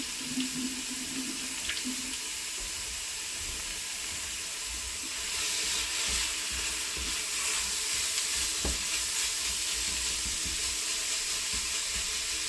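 Pork fries in a pan and is broken up, giving a continuous soft hiss that rises partway through, with a few faint scrapes and knocks from the utensil and no talking.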